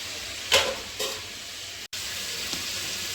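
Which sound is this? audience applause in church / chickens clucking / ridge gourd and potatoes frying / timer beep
ridge gourd and potatoes frying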